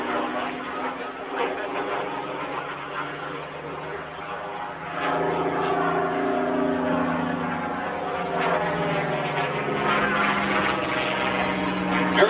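Supermarine Spitfire flying past and turning during an airshow, its propeller engine a rich, rising drone that swells louder toward the end, with an announcer talking over it.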